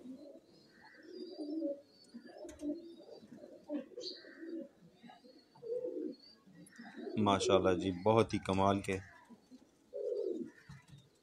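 Breeder pigeons coo in low, throaty bursts among men chatting, with a dense stretch of rolling coos standing out near the middle.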